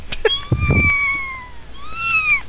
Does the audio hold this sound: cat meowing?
yes